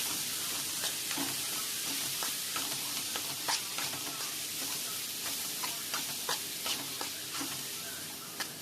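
Finely chopped bottle gourd sautéing in a little oil in a pan gives a steady, soft sizzle, with a string of light scraping stirs and clicks from a spatula running through it. No one speaks.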